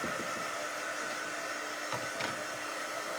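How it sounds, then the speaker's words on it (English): A hair dryer blows steadily over painted word art for a winter-themed craft, a close, continuous whooshing roar with slight flutter and no speech. "Let's hit this with the dryer and let's start gluing."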